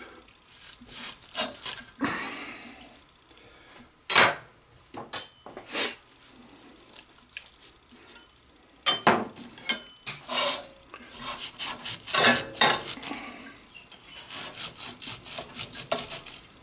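A knife scoring pork shoulder skin in a pan, heard as close, rough rasping strokes in irregular bursts, some sharp and loud, with quieter scraping between them.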